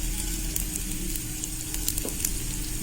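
Cumin seeds sizzling and crackling in hot oil as they roast for Pongal, a soft continuous hiss with small scattered pops, close and alone.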